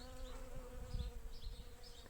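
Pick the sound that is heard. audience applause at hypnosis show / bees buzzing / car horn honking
bees buzzing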